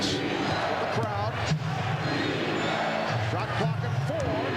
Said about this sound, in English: Chant of defense with the crowd.